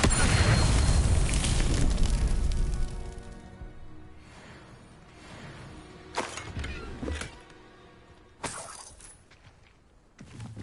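Confringo spell blasts in Hogwarts Legacy: a heavy crashing explosion at the start that fades into debris, then several sharper bursts follow at intervals.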